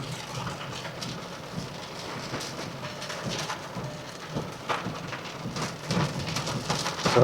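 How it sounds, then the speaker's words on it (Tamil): Heavy rain drums steadily on a car while driving near Ratnagiri, Trichy, with dense pattering and occasional louder gusts of spray throughout, growing slightly stronger at the end. "மழை வந்து ரெயின் சேசிங்"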